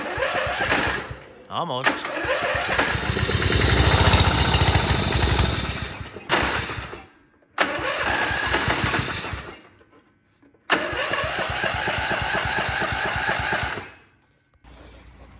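A Gravely 1434 zero-turn mower bought at auction, choked while its engine cranks, catches and runs in several loud bursts, cutting out between attempts, with a person speaking briefly nearby.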